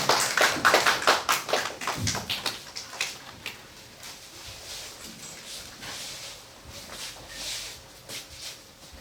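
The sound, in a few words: congregation applauding in church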